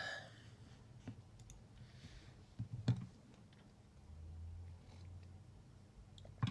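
A computer keyboard clicks and clacks faintly in a quiet room, with sparse, irregular taps and a couple of sharper key strikes standing out.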